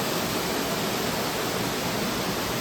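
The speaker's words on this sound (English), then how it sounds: "there's a lot of rain coming down" Heavy rain pours down steadily during a typhoon beside a resort swimming pool and lagoon with water fountains, a dense, even hiss with no breaks, close and loud throughout.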